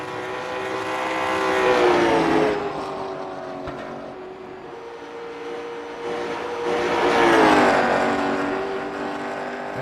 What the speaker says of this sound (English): That car looked very loose through the center and exit of turn number 2, and Dillon's going to go to the high side